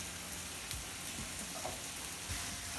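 Taco meat cooking with peppers and celery in a pan gives off a soft, steady sizzle with faint crackles and occasional stirring scrapes, quiet and close with no voices.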